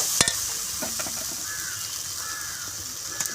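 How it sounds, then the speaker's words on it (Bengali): Cabbage and fish head being stirred and fried in a pan give a steady close sizzle with a few scraping stirs, while crows caw faintly in the background. "এখন ভালো করে এরকম নেড়ে নেব, নেড়ে নেড়ে ভালো করে ভেজে নেব"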